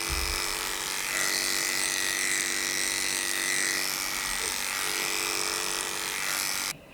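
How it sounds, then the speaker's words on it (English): Electric dog clippers buzzing steadily through a dog's body coat on the leg, a close, continuous high-pitched whir that cuts off abruptly at the end, no speech. "I'm going to lift up the opposite leg and come in with my clippers and clip straight down"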